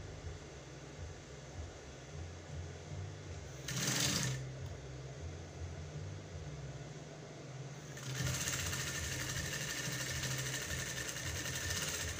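A sewing machine stitches a strap onto a corset during a cup and boning repair, running as a steady mechanical whir that shifts in pitch partway through, with no voices over it.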